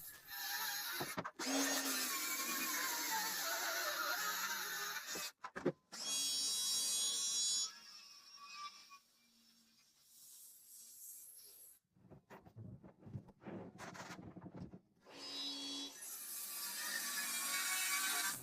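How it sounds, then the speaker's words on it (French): A circular saw cuts through wood scraps while a two-cat house is being built, loud bursts of whining saw noise broken by short pauses and quieter stretches of handling between cuts. "j'ai utilisé la scie circulaire pour la plupart des découpes"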